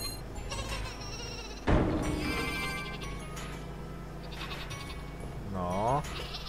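Sheep bleat in the video game Flockers, several drawn-out cries over a busy background of game sounds and buzzing effects, with a louder burst partway through.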